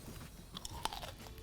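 A crunchy Cajun boneless chicken wing from Wingstop bitten and chewed up close, a sharp crisp crunch followed by a few softer chewing crackles, with no talking.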